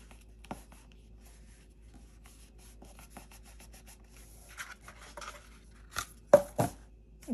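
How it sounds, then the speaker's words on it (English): Pen or pencil on a birthday pop-up card, faint scratchy writing strokes over near silence, building toward the end into a few louder rubbing scrapes. "I was doing the writing element"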